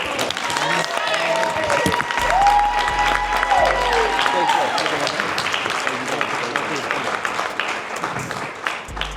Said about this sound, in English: So, Tahir Ali, let's give him a round of applause.